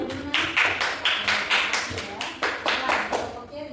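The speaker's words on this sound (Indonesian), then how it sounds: "Untuk kelompok C kita kasih tepuk tangan dulu." Classroom group claps hands together in a steady, rhythmic beat, about a dozen loud, even bursts close by, with no other sounds over it.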